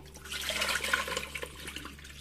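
Water runs and splashes steadily over soaked ration rice as it is rinsed for dosa batter, a close continuous wash lasting a couple of seconds.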